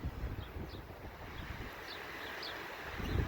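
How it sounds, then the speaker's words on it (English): A gust of wind blows through an outdoor garden near pine trees, a faint, broad rushing with low buffeting rumble against the microphone. "Here comes a big wind"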